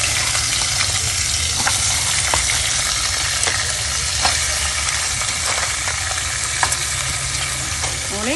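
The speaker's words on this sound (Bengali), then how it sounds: "এগুলোকে ভেজে নেবো এবার" Five-spice seeds sizzle and crackle steadily in hot oil for a spicy crab curry, a close, continuous frying hiss with occasional stirring scrapes.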